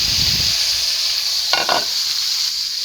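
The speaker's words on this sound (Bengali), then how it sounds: "তেলটা গরম হয়ে গেছে মেখে রাখা মাছগুলো দিয়ে দিলাম" Marinated shol fish drops into hot oil in a wok, a bright steady hiss of frying with a couple of quick crackling bursts midway and a low rumble at the start; no voices.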